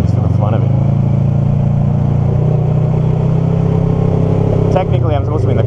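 A motorcycle engine rumbles steadily up close, its pitch shifting slightly as it revs near the end, with talking over the top.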